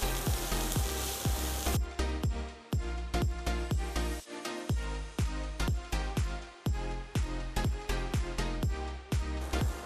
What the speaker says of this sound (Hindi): अब इसे भूनते हुए 1 मिनट हो गया है।